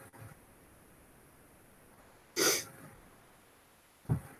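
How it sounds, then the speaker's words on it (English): A person sniffles, with two short, quiet nasal bursts a couple of seconds apart over a faint background. "Yeah, sniffles are coming back."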